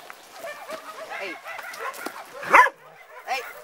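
A dog at an animal shelter in Crete gives a few short barks and yips amid a chorus of other animals, including fowl, with one louder bark standing out near the middle.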